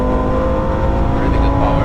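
A 650 hp Audi RS3 8V set up for the Nürburgring accelerates hard away from a standstill, its loud engine roaring steadily and close up from start to end.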